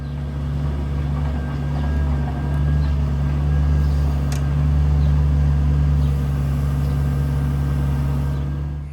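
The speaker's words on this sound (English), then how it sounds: "we're going to use the skid steer to get them over into the high tunnel" A skid steer hauling heavy ash logs inside a high tunnel runs as a loud, steady diesel drone with deep engine tones, rising and falling slightly throughout.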